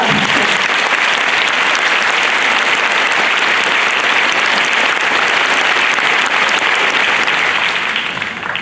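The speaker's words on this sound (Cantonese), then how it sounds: "不如你哋再次幫我俾啲掌聲。" Audience at an award ceremony breaking into sustained, loud applause, dense even clapping from a large crowd holding steady for several seconds before easing slightly at the end.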